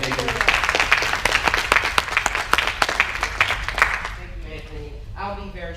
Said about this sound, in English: Round of applause for Ms. Barbara Major.